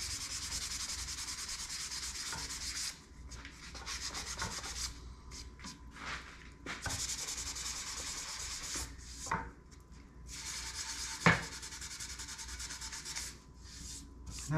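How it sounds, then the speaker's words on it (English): Used 220-grit sandpaper rubbed by hand over epoxy-filled wood for a shelf, a close, steady scratchy rasp in repeated strokes with brief pauses between passes. "so now I got a used piece of 220 sandpaper"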